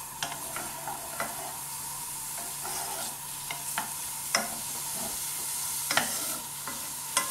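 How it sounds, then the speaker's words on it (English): Onions sizzling in a pan on a gas hob give a steady, quiet frying hiss, broken by occasional sharp scrapes and taps of stirring at close range, with no talking. "Now you might be able to start hearing the onions sizzling a little bit."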